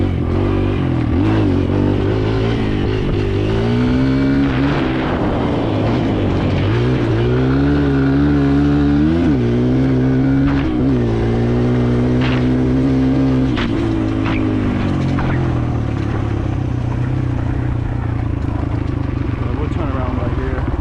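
A Kawasaki KLX 140L dirt bike engine revs hard while riding, its loud, close buzzing note climbing and dropping repeatedly as the throttle is worked, with wind rush over it.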